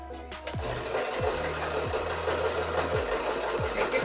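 A sewing machine stitches fabric during a beginner sewing lesson, giving a steady, close mechanical whir that runs without pause through the clip, with a few short gliding tones layered over it.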